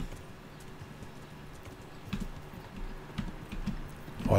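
A horse in the video game Kingdom Come Deliverance, its hooves giving a few soft, irregular clops that build slightly toward the end over a quiet ambient bed, with no speech.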